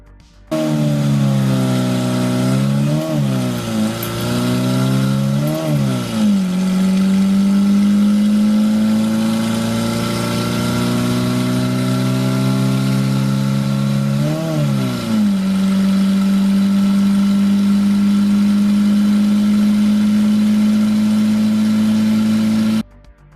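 A 2.2-liter, 55-horsepower diesel pickup engine from the 1980s revs loudly and steadily, with rising tones through several gear changes as it accelerates, close and continuous with no talking.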